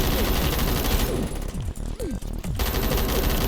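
Bursts of G36 assault rifle fire in a video game, loud and rapid with a brief lull of scattered single shots mid-clip before sustained automatic firing resumes.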